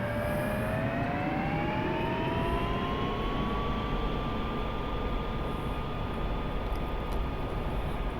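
An F-16C jet in the DCS flight simulator roars steadily through its takeoff run, with loud broadband engine noise and a rising turbine whine that climbs in pitch and holds, continuous for the whole stretch.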